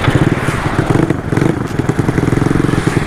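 A modified racing-spec Yamaha Mio scooter engine runs loud and close with a rapid, rough, pulsing putter and mechanical clatter, rising briefly around the middle.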